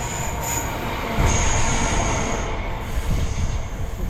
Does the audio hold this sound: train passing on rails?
yes